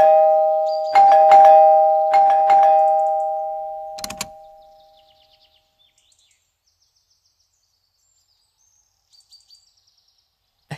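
A doorbell in a Hindi film house scene rings several times in quick succession, loud and close, its tone ringing out between presses before fading to near silence.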